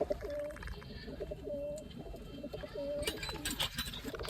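Pigeons with their young coo softly in the cold, several low, rounded calls repeating at intervals, close by, with faint outdoor background noise and no talking.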